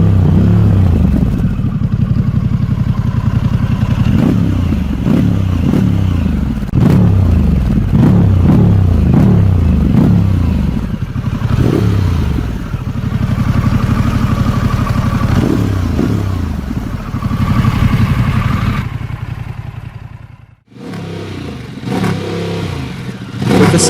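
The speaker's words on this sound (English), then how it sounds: "a deep, sporty exhaust tone, designed specifically to fit right and look great on Pan America." A Harley-Davidson Pan America 1250 fitted with an IXIL exhaust gives a loud, deep, sporty exhaust note, rising and falling through a run of repeated revs and accelerations, with a brief dip in the engine noise near the end.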